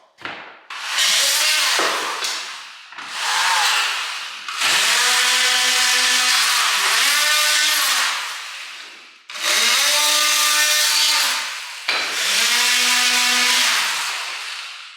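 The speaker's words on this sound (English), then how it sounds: "Put a nice wood blade on your multi-tool, just hack them off." Oscillating multi-tool fitted with a wood blade cutting off trim in an attic conversion, buzzing in several loud, close bursts with short pauses between them and no talk.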